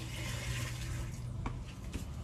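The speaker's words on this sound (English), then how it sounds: "put about 5 gallons of water down the pipe there" Water pours steadily down a drain pipe, a continuous gushing wash with faint splashes and gurgles near the end.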